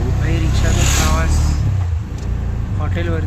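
An auto rickshaw rides through Hampi with a constant engine and road rumble close by, while people talk over the motor.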